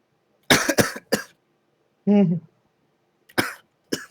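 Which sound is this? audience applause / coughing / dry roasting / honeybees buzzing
coughing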